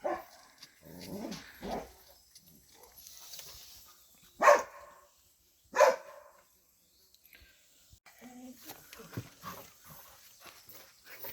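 Small dogs growl and bark in short, irregular bursts at fairly close range, with two sharp, loud barks standing out among lower growling and rustling in an indoor setting.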